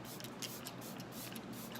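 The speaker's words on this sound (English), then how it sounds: "it's about time to finish off with some finishing spray" Makeup finishing spray misted over a face after an eyeshadow look, a soft continuous hiss of fine aerosol running steadily for about two seconds with no voices.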